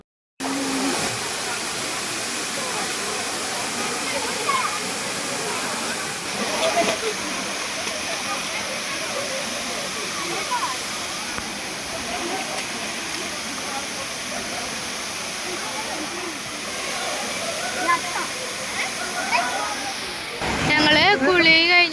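Steady rushing roar of a waterfall in Ernakulam, Kerala, at reduced dry-season flow, fills the whole stretch, constant and loud, with a brief dip and swell near the end.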